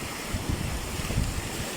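Rough ocean waves breaking against shoreline rocks, a dense, continuous roar of surf with wind buffeting the microphone and no pauses or voices.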